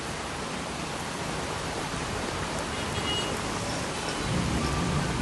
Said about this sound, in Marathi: गेल्या दीड तासांपासून हा पाऊस सुरू आहे